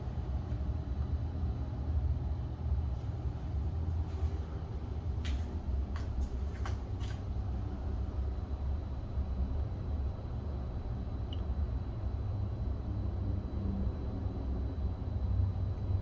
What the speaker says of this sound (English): By the front window, you can hear traffic maybe.